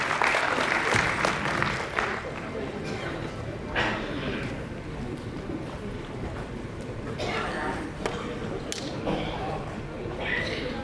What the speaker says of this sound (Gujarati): જોરદાર તાળીઓ સાથે આપ કરીએ ભરત પરીખ.